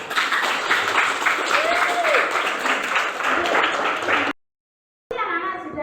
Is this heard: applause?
yes